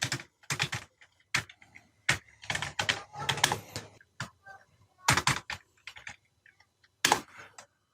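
Keys on a computer keyboard clatter in short, uneven bursts of quick taps separated by brief pauses, close and fairly crisp in a quiet room.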